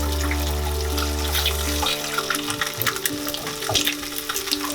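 Eggs scrambled and broken into small pieces while frying in a pan for Indian egg keema, a steady sizzle with occasional stirring scrapes, close and continuous without speech.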